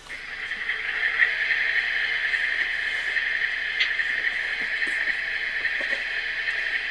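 An HO scale GEVO model locomotive with DCC sound idles, a steady, fairly faint electronic diesel drone with a hissy tone, holding constant with a few small clicks.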